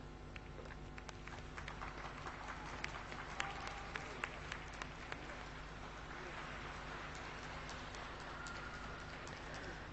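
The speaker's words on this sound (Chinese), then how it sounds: "现场观众是几次响起了掌声" Faint crowd applause rises in a figure skating arena during an ice dance performance at the 2019 Chinese National Championships, a soft patter of clapping with scattered sharper claps, heard under a commentator's voice.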